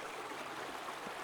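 Creek water flowing over a rocky bed, a soft, steady trickle and babble heard from close by and fairly quiet, with no voices.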